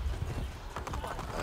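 Horse hooves clip-clop at a steady pace in Assassin's Creed Brotherhood, the rhythmic footfalls mixed with low ambient game noise.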